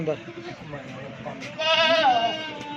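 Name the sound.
goat bleating, seven-month-old goat at market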